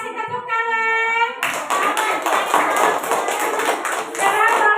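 A classroom group gives a round of applause for group 5, dense, steady clapping from many hands after a spoken line, lasting several seconds.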